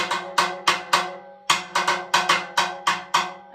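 Sticks strike the metal shell of timbales drums in a quick, bright, clanking rhythm. The hits are close and loud, about a dozen of them in a steady pattern, with no talking.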